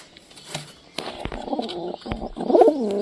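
A pigeon perched at its nest with eggs gives a low, throaty coo near the end, close by, after scattered soft rustles and light background noise.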